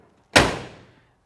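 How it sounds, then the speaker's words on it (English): A 1968 Plymouth Road Runner's door slams shut once, a single loud, close thud with a short decaying ring afterward, no talking. "Let's close our door here."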